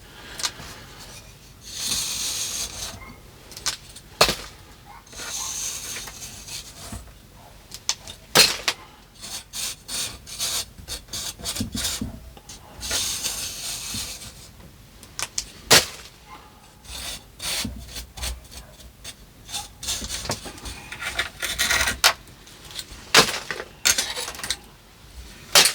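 Someone scrapes moss and growth off a dwarf myrtle by hand, giving repeated rasping, rubbing strokes of varying loudness, close up and without talk.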